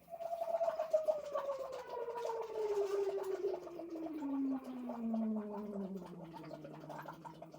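A voice hums through a straw in straw phonation, sliding slowly and continuously from a high pitch down to a low one, a soft buzzing glide with breathy bubbling texture, close and alone.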